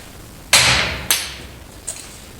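Three sharp metallic hammer strikes on a steel kingpin in a Peterbilt 359 steer axle ring out, two loud and one fainter, each with a bright clang that decays quickly.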